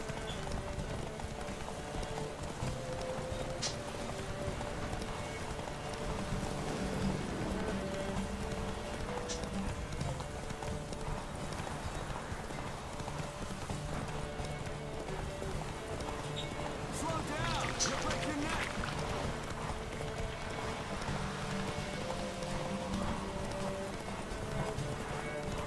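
The horse Roach gallops in The Witcher 3 with steady rhythmic hoofbeats throughout, under someone talking over the game audio.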